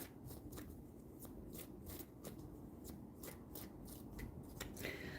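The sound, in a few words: shuffling playing cards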